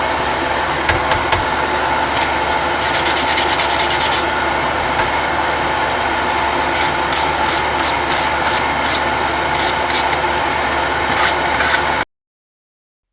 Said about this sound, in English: I've just gone and got a larger piece of sandpaper now.